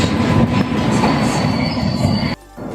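Basava Express passenger train arriving at a railway platform, its loud wheel rumble and squeal of the railcars filling the air before the noise drops away abruptly near the end.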